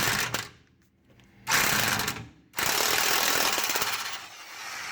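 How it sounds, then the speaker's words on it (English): An impact wrench hammers at a torsion bar bolt underneath a vehicle in loud, rattling bursts separated by short pauses, close by. "if you get under it with an impact and you hold the top of the wrench there pretty tight"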